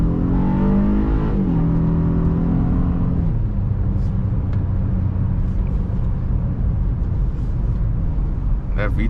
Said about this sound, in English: That VTEC noise is so intoxicating.